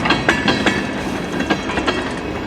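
A CN freight train passing eastbound near Emmett, Michigan, with rhythmic clickety-clack of wheels over rail joints, close and steady with no voices.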